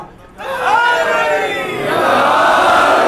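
A crowd at a Shia majlis gathering erupts into a chanted slogan, a loud massed roar of many voices rising after a brief quiet start and sustained to the end.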